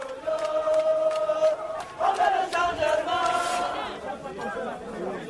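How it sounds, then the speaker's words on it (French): An angry crowd of protesters fills a street in Port-Gentil, Gabon, with many voices shouting and chanting at once, loud and close, in a dense, continuous roar of overlapping yells. "des caméras de vidéastes amateurs accompagnent une foule en colère que les forces de l'ordre ont bien du mal à contenir"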